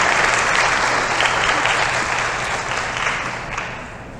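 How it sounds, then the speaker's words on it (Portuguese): Steady applause from a conference audience for Professor Henrique, a dense wash of many hands clapping that fades slightly toward the end. "Palmas para o professor Henrique."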